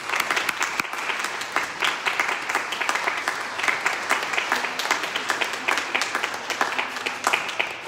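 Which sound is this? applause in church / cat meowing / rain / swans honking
applause in church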